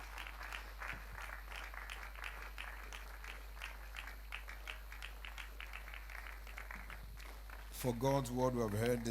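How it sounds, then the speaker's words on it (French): Sustained applause from a church congregation at a prayer service, with a steady low hum beneath, and a voice breaking in loudly over it near the end. "Au nom précieux de Jésus, acclamons pour le Seigneur pendant que nous recevons le serviteur précieux de Dieu."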